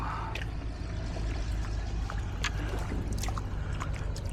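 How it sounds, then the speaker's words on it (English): Kayak paddling around a paddling centre, with steady water sloshing and trickling under a constant low rumble, soft splashes and drips recurring irregularly throughout. "we're just going to kind of paddle around now"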